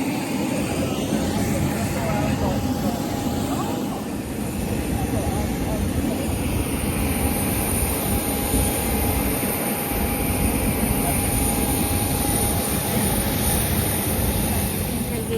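A small airplane's engine drones steadily and loudly throughout, a constant cabin roar with no pauses.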